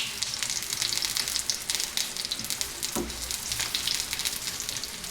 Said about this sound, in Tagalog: Prituin lang natin tong ating mga karne.